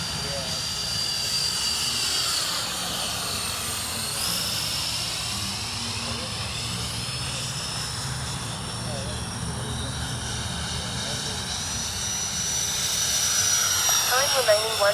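An Aerojet 64mm electric ducted fan RC jet plane passes overhead, a rushing whine that sweeps and shifts in pitch as it flies by, growing louder toward the end.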